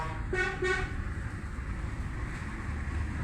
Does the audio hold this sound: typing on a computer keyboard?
no